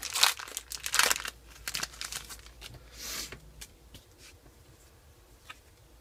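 A Pokémon EX Furious Fist booster pack wrapper is torn open and crinkled up close, with sharp bursts of crackling plastic early on and softer rustles and handling afterward.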